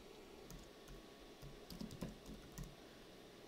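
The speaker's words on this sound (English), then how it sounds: "highlight it, and then we can type" Keys tapped on a computer keyboard in short, uneven bursts of quiet clicks, close by, with no one talking.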